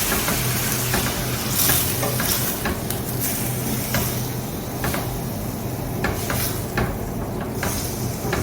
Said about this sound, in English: So I've got the olive oil and the garlic in the pan, and I'm just going to add these straight in.